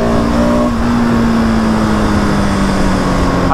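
A 2020 Husqvarna 701 SM motorcycle engine with a fuel dongle pulls hard in third gear, a loud, close, sustained single-cylinder drone with a slowly falling pitch, no talking.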